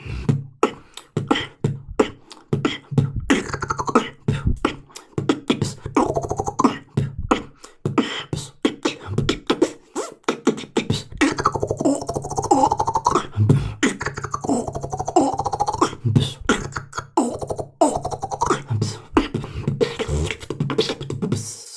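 A vocal beat made with the mouth: sharp clicks and kick-like pops in a steady rhythm, interspersed with hissing, rolling buzzy imitated sounds, close and unaccompanied.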